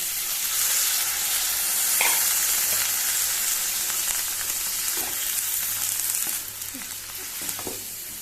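Chopped ivy gourd and water going into a hot pan for a Goan bhaji, a steady loud sizzle and hiss with a few stirring clinks, easing slightly toward the end.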